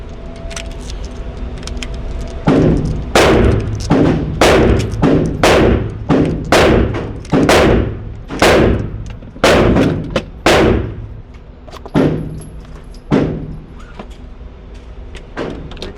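Pistol double taps in a USPSA shooting drill ring out as loud, sharp pairs of gunshots in quick succession, several strings spaced about a second apart across the clip.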